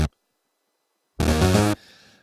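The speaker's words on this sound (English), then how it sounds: "Very stereo and very kind of fat pad type thing" Wide stereo synth pad patch built from two oscillators, a thick, fat sustained chord sounding alone for about half a second, preceded by a brief blip and trailing into a softer wash.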